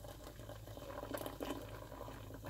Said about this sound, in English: So I'm pouring a little.